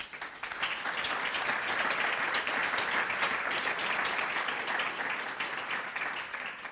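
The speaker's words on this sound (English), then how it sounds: "I would like to thank my fellow panelists, first of all, with a big applause." A conference audience gives panelists a warm round of applause after a higher-education panel discussion; dense clapping swells in within the first second and stays full and sustained, easing slightly toward the end.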